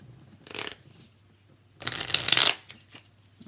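An oracle card deck is shuffled nearby in two short bursts, a brief soft riffle followed by a louder, longer crisp shuffle, with quiet handling sounds between them.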